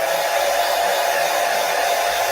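Hair dryer blowing steadily to dry a spot on cardboard art, a loud continuous whooshing roar held near the microphone without a break.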